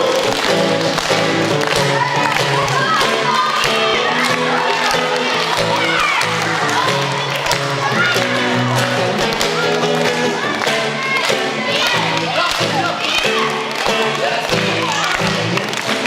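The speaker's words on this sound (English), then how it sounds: "Hey, everybody clap" Audience at a school show at St. Joseph's clapping along in a steady rhythm, loud and continuous, mixed with music and voices throughout.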